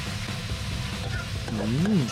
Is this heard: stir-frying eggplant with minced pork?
yes